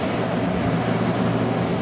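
Steady broadband white-noise roar from the cooling fans of a gigawatt-scale Bitcoin mining farm in Stanton County, Nebraska, heard outdoors at a distance as a constant hiss and rumble with no talk.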